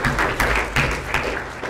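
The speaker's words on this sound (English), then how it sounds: "Give them a round of applause." An audience at a mental maths magic show claps briefly, a short burst of steady, moderately loud applause filling the room without any speech.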